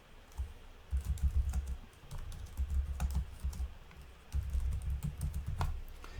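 Fingers type on a computer keyboard to enter a reminder subject line, giving bursts of soft, rapid key clicks with short pauses between words, close and alone with no speech.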